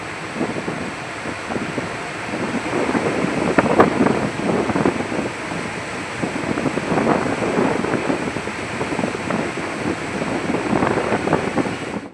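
Floodwater rushes through the crest gates of the Nagarjuna Sagar dam, with twenty-four gates raised five feet and two raised ten feet. It makes a loud, continuous roaring wash with gusty wind buffeting and no voices.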